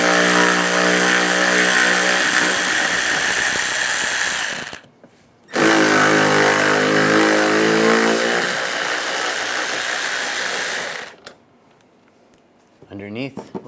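Power tool whirring steadily and loudly with a 10mm socket as bolts are removed during a headlight replacement on a 2006-2009 Mercedes-Benz E350, in two long runs separated by a brief stop, then a quiet tail.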